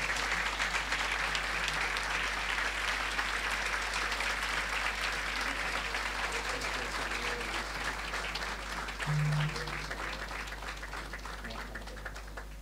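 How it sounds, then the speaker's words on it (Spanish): Sustained audience applause at an engineering faculty anniversary ceremony after a commemorative plaque is handed over, a dense even clapping wash lasting the whole stretch with a faint low murmur beneath. "Allí los aplausos"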